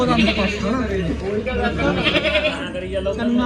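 Goats bleat repeatedly close by at a fair, wavering cries overlapping with a person talking throughout.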